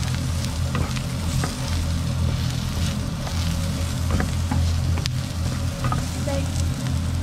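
Fried rice with egg and other ingredients is tossed and stirred in a hot pan, a steady close sizzle broken by scattered clinks and scrapes of the utensil against the metal.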